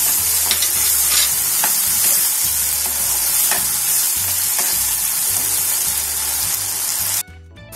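Spice masala for chana pulao frying and being stirred in a pot: a loud, close, constant sizzle with rhythmic scraping strokes of a spoon, cutting off abruptly near the end.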